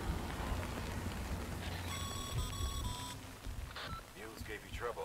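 Rain falling in the video game Death Stranding, a dense steady hiss of drops over low rumble, with brief electronic beeping tones partway through and talk over it.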